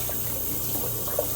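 Warm tap water running steadily into a sink while nebulizer parts are rinsed, a continuous close splashing hiss with small gurgles and no talking.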